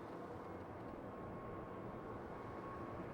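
A departing airliner roars from a Schiphol Airport runway, a steady broadband low rumble held evenly throughout, distant and fairly faint.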